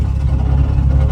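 A Jaguar E-Type idling at the roadside with its exhaust fallen off, a loud, steady, low throbbing engine note with a rough pulsing rumble, close by and alone.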